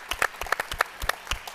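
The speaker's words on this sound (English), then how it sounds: "So, applaud to that." Conference audience applauding, a burst of many hands clapping at once, dense and sustained for a moment before fading.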